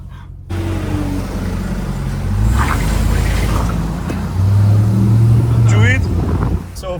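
Dodge Ram TRX, a 707 hp 3.5-ton pickup, rolling through city streets with a steady low engine drone and a louder rumbling swell near the end, traffic noise around it, and people talking in the cabin.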